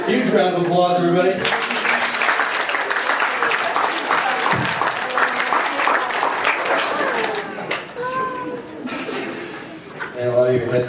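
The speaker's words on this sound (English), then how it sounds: "Huge round of applause, everybody." Audience applause and laughter at a high-school aftergrad comedy hypnosis show, clapping mixed with chuckles and a crowd's mirth, with a voice talking over it at the start and end.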